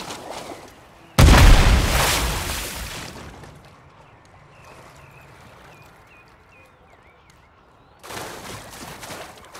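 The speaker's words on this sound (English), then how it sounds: "Incoming grenade!" A grenade explodes in Call of Duty MW3 Team Deathmatch with a single loud, close boom that rumbles and fades over a few seconds, followed by quieter game ambience and another burst of noise near the end.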